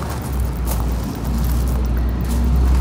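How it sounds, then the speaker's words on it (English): Steady low road rumble of trucks passing near a garden in Charlotte, North Carolina, with a continuous engine drone and faint hiss from traffic. "excuse the noise of trucks"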